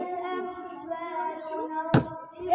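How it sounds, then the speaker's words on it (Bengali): A single sharp hand clap during a bottle sweep game, standing out against a steady tonal background of music or voices. "আবার হাততালি দাও"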